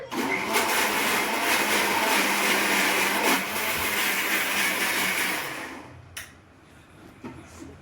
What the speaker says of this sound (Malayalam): ഈസ്റ്റൊക്കെ ചേർത്തിട്ടുള്ള നമ്മുടെ ഉഴുന്ന് വീണ്ടും ഒന്നും കൂടെ അടിച്ചെടുക്കുകയാണ്